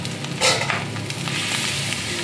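Boiled, cold-rinsed pasta hits a hot pan and sizzles loudly, a dense continuous crackle with a brief louder burst as it goes in, close and without talking.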